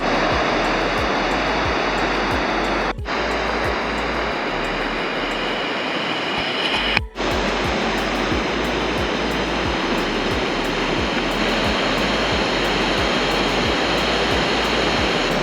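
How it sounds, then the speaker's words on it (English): A waterfall on the Taroko Gorge trail in Taiwan roars as a dense, loud, steady rush of falling water that fills the whole clip, broken only by two brief dips. "now a stunning waterfall"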